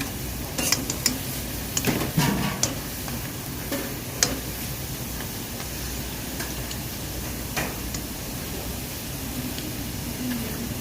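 Red sausages fry in a pan with a steady low crackle and hiss, broken by scattered clinks and scrapes of a utensil against the pan, fairly close and without talk.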